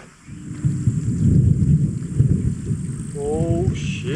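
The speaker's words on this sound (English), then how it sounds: "Did you hear that thunder?" Low, continuous thunder rumbling through a brewing storm at a camping area in the Beaufortain mountains of France, a broad muffled roll that swells and lingers, with a faint wavering tone near the end.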